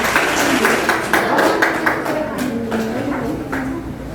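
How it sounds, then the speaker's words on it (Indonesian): A classroom of students claps in a burst of uneven, overlapping hand claps that taper off over a few seconds, with a voice mixed in. "Tepuk tangan dulu untuk teman-temannya."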